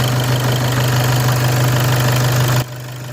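A VW EA288 2.0 TDI diesel engine idles steadily during warm-up, a close, even low rumble with a rhythmic knock that drops abruptly in level near the end; no talking.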